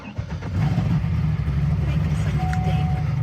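A Corvette engine cranks and fires up, settling into a loud, steady low rumble close by for the rest of the moment, with no one speaking over it.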